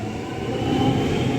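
Steady low rumble and hum of a Frankston line train pulling out of a sky rail station, a continuous rolling noise with no voices.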